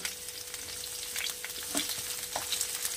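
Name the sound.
bottle gourd sautéing in pan on low flame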